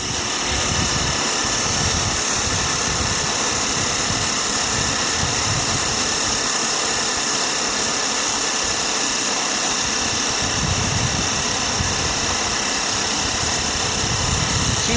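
A small Sirius steam engine drives a generator near 2,000 RPM, giving a steady, loud, continuous hum and hiss with low mechanical churning underneath, unbroken for the whole stretch and with no voices.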